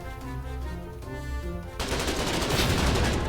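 Rapid automatic gunfire in the game Foxhole bursts in partway through, loud and continuous over a musical backdrop.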